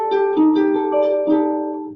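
Jazz guitar sounding a closed-voice chord, several rich sustained chord strikes ringing close and clear with a slight shift between voicings, no talking.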